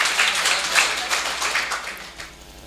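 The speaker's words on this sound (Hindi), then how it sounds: "एक बार जोरदार तालियों से स्वागत कीजिए मदन तिवारी भावुक जी।" Audience at a Hindi poetry gathering breaking into clapping, a burst of applause that swells briefly and then tapers off toward the end.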